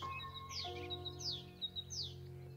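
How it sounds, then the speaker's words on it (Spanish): Goldfinches twitter and chirp in bright, rising notes, a few quick calls against a quiet outdoor background hum. "Jilgueros."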